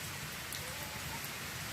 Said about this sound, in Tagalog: hindi tayo makalabas, masyadong malakas ang ulan.